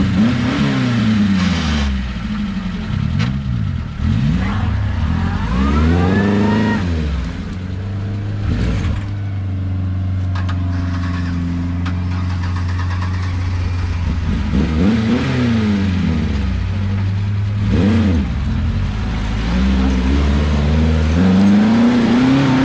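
A UAZ off-road vehicle engine revs hard in second gear, loud and close, with repeated rising and falling surges as the motor strains under load, continuous throughout.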